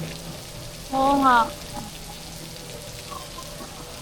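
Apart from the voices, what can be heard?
rain falling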